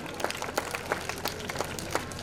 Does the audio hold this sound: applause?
yes